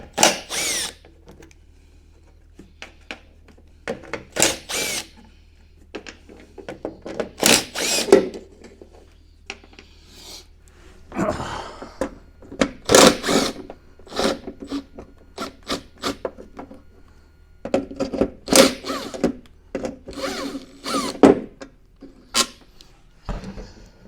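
A power drill undoes screws on a Toyota 80 series wiper mechanism, giving repeated short whirring bursts with rattling and scraping handling noises between them, close and intermittent with quiet gaps.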